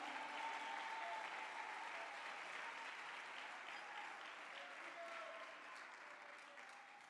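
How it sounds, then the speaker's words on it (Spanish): A church congregation applauds in praise of the Lord, steady dense clapping from a crowd that holds for several seconds and slowly tapers, heard at a distance in a large room. "esas palmas son para el Señor,"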